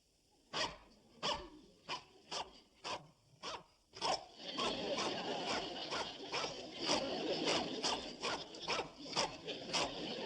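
A dog from the sitcom Petticoat Junction barks about seven times in a quick, even rhythm. A steady scuffling, rubbing noise follows and continues to the end, with no clear voices.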